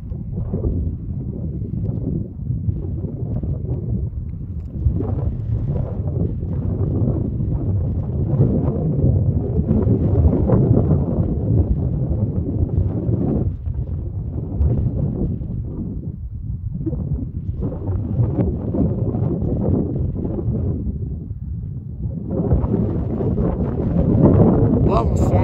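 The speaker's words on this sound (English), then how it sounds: "Some wind." Strong wind buffets a microphone near an erupting volcano's lava field, making a constant low rumbling roar with gusty surges that lasts the whole time.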